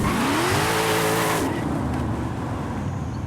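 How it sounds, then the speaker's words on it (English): Test launch of a tuned car in the game Forza Horizon 5, a loud revving engine with squealing tires that cuts to a steady roaring drive after about a second and a half. "So I'm going to do a couple of test launches so I get my tires heated up"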